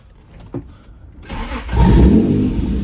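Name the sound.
sports car engine starting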